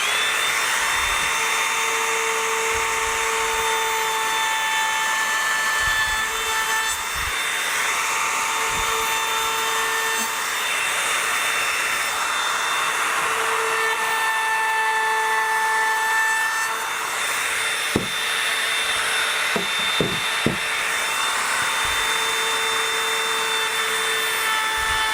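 Router rounding over the corners of an end grain wooden cutting board, a continuous loud high motor whine with the hiss of cutting wood, steady and close, a few faint knocks near the end, no speech.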